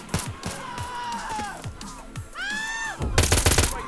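Gunfire in GTA San Andreas, a rapid string of sharp shots mixed with other game sounds, ending in a loud dense burst of firing.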